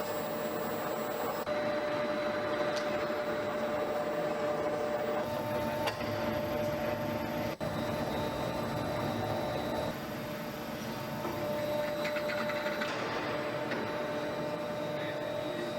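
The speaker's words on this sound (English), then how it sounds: "Here we have the pipe and here we have the lock, and they are connected using friction welding." An automated friction welding machine joining a pipe to a lock, giving off a continuous, loud mechanical whir and hum with faint ticking, steady throughout with no voices.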